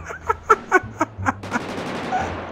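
Gunfire in the video game GTA 5 roleplay, a rapid string of about six sharp shots close together, followed by a rushing, noisy tail.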